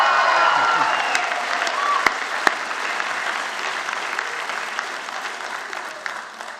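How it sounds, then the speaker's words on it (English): A convocation ceremony audience applauds steadily throughout, a dense wash of clapping that stays loud and slowly eases off, with no talk over it. "Round of applause."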